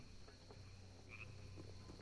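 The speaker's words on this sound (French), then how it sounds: "J'entends une grenouille" A frog croaking in the video game Baldur's Gate, faint rhythmic croaks over a quiet ambient drone with a brief higher chirp midway, with no voices.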